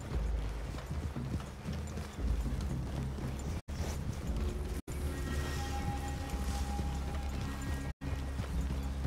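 Horse hooves clip-clop steadily over rough ground in Red Dead Redemption 2, several animals moving together at a walking pace, close by, with a low ambient hum and no talking.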